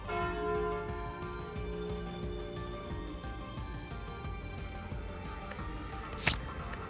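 Slay the Spire's calling bell relic rings out in one long, resonant tone that swells over a dense bed of game music, then fades, with a sharp bright ping near the end.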